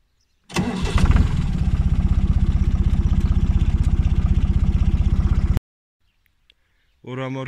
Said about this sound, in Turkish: biz traktörümüzü çalıştıralım.